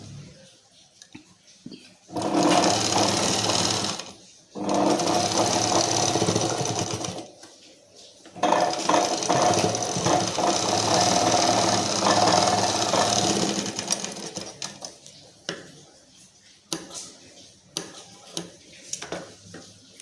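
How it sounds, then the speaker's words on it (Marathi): Sewing machine stitching a double stitch on a garment, loud close rattling runs in several bursts separated by brief pauses, ending with scattered clicks and handling taps. "याला डबल टिप मारून घेऊया."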